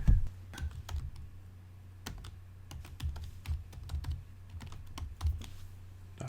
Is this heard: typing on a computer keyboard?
yes